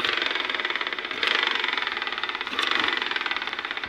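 On a Yamaha Mio i scooter with the torque drive removed, a noisy transmission gear spins, giving a close, rhythmic mechanical whirring and ticking with periodic swells.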